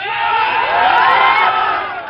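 Large crowd at a political rally in India cheering and shouting together, a loud sustained roar of many voices with rising whoops, close and continuous throughout.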